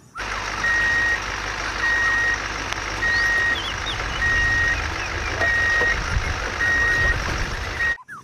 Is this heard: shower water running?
no